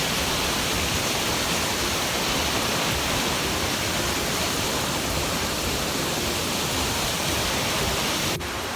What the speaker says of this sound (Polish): jeden z największych wodospadów w Walii